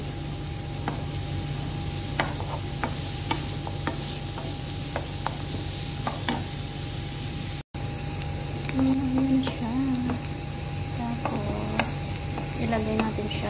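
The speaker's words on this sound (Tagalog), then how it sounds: "Lagay natin siya sa pinakuroan natin yung cabbage at patatas" Cabbage and potatoes going into a pot of beetroot soup: a steady background sizzle with scattered stirring clicks and clatter, a brief dropout midway, then sharper scraping and tapping.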